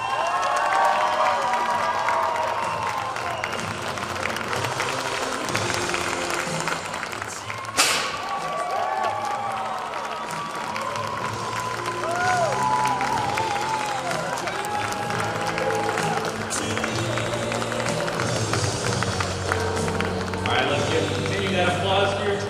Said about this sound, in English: Continue that applause for your 2023 National Collegiate Rifle Champions.